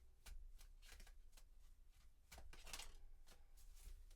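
Repeated papery riffles and soft slaps of a deck of cards being shuffled, close up, in bursts with short pauses between.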